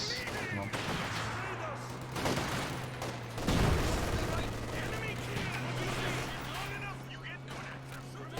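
Machine gun bursts and other gunfire in the Company of Heroes 2 war game, with rapid crackling volleys and a heavier blast near the middle, all under a continuous low engine rumble and intermittent talk.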